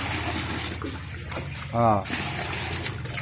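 Tap water runs steadily during washing up at home, a constant close hiss with a short spoken exclamation cutting in midway.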